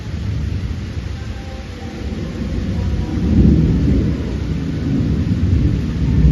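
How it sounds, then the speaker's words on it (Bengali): Heavy rain pours down steadily with rumbling thunder, a dense low roar that swells midway and stays loud throughout, with no voices. "ভালো জোরে বৃষ্টি হচ্ছে।"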